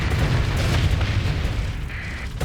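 Torpedoes strike a ship in Starsector, producing a loud, deep, rumbling blast that rolls on for a couple of seconds with a brief bright tone near the end.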